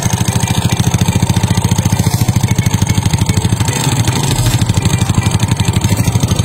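A motorcycle engine idles close by with a steady, rapid pulsing thrum, a faint high cricket-like chirping tick from the magneto riding on top of the rhythm, after the motorcycle was submerged in floodwater.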